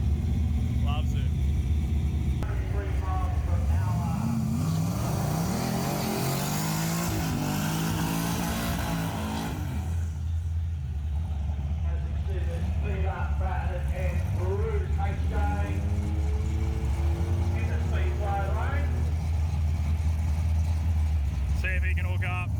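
A turbocharged LS-powered street radial blown class drag car on street tyres at a drag strip, with a loud engine revving and roaring as it launches and pulls away, a voice commentating over much of it.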